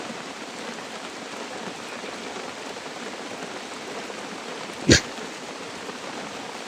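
Heavy rain pours steadily on surfaces outdoors, a dense constant hiss with one sharp brief knock partway through and no talk.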